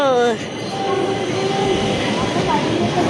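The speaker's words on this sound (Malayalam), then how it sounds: "കണ്ടോ ട്രെയിൻ പോണത് കണ്ടോ" A train rumbles past nearby with a steady broadband roar and faint wheel squeal, a voice briefly audible at the start.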